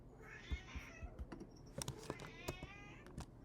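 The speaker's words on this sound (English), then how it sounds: "the cat comes up and meows at me to get attention" A house cat meows repeatedly at close range, a series of short rising cries spread across a few seconds, with light clicks of keyboard typing scattered underneath in a quiet room.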